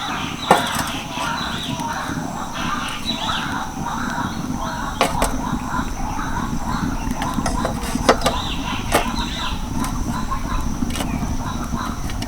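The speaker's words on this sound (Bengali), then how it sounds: "এবার দেখো একটা করে বাটি বসিয়ে দিচ্ছি" Bowls are placed one at a time onto a plate inside a dry kadai to bake egg-free bowl cakes. A few sharp clinks come at spaced intervals under a talking voice and a constant background hiss.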